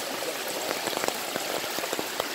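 A river running high after heavy rain near the coast, heard as a steady broadband rush of flowing water with scattered splashy ticks, moderately loud and close, with no one talking.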